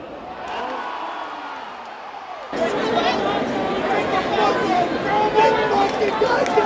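Crowd at a Yankees baseball game in the stadium, a low distant murmur that swells into loud, sustained cheering and chanting with dense overlapping voices.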